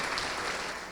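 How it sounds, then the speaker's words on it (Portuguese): A church congregation applauding during a service, dense, steady clapping from many hands filling the room. "vamos aplaudir ao Senhor Jesus por cada vida que está chegando"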